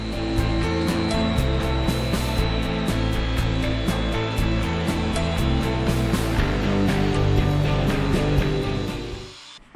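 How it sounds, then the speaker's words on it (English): A power sander fitted with a 3000-grit polishing pad grinds across a natural stone tabletop, a loud, continuous motor hum with rough rubbing texture close by, fading out at the end. "So here's the 3000 pad. We'll sand it down with that."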